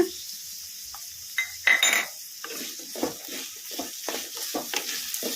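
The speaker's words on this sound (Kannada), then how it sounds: "ಉಳ್ಳಾಗಡ್ಡಿನ ಮೀಡಿಯಮ್ ಫ್ಲೇಮಲ್ಲೇ ಫ್ರೈ ಮಾಡ್ಕೋಬೇಕು" Onions and curry leaves fry in a pan over a medium flame, giving a soft sizzling hiss under intermittent scraping and stirring clinks of a spatula.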